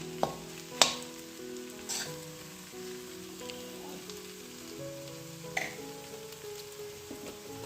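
Ghee goes into a hot pan for a vegetarian fig curry and sizzles softly and steadily, with a few sharp clicks and splatters, while a tonal background hum plays underneath.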